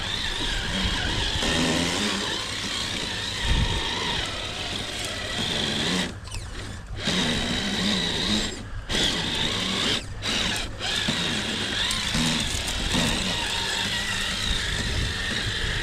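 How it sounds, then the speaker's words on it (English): A Rlaarlo MK07 RC truck with a stripped rear differential runs in front-wheel drive, its motor whirring and gears ratcheting continuously, with several brief pauses as it cuts out and restarts. "It is running in front wheel drive only right now because that rear is stripped, and it's the differential gear."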